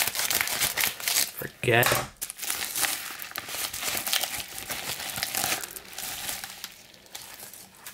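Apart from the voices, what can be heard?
tearing open a mail package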